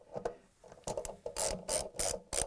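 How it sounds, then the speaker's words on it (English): Close, sharp ratcheting clicks from a 10 mm socket wrench tightening bolts while a Samsung washer spider arm is assembled, coming in quick bursts of several clicks with short pauses between them, no talking. "tighten them up with a 10 millimeter socket wrench"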